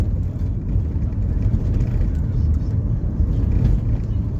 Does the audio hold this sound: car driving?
yes